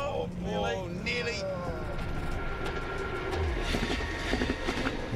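A freight train rumbles steadily through the Australian outback, its continuous low drone and rattling carriages filling the scene while people speak over it.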